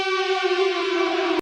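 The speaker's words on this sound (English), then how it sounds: "That's a crazy siren on that." A loud, steady wailing siren in war footage holds one droning pitch with strong harmonics for over a second, then cuts off abruptly.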